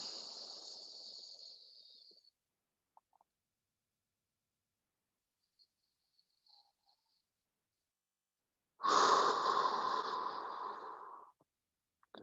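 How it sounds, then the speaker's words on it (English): Slow, deep breaths during a morning stretch break, one soft exhale fading out, then a long quiet pause before a fuller, louder breath about two seconds long, heard close and alone. "Nice long exhales, you guys."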